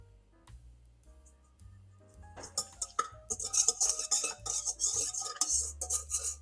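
A utensil stirring yeast into a bowl of brioche dough mixture: quiet scraping and clinking strokes, sparse at first, then quicker, louder rhythmic stirring against the bowl.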